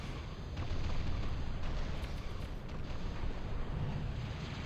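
A massive treaded cannon fires in a Titans Escalation video game battle, a dense, rumbling roar of heavy blasts that fills the whole clip with continuous booming noise.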